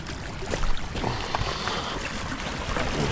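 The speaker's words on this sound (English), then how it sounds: "You get the waves, the sound of it." Steady broadband wash of water waves lapping at a lakeshore fishing spot, continuous and fairly close, with no talking.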